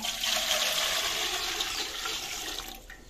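Water is poured steadily into a cooking pot while making biryani, a continuous close splashing rush that runs the whole time and fades slightly at the end.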